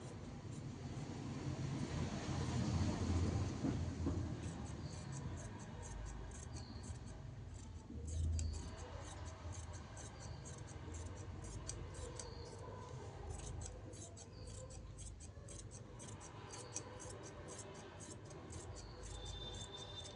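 Scissors steadily cutting through lining fabric for a suit, a continuous run of crisp snipping close by over a low background hum, with no talking.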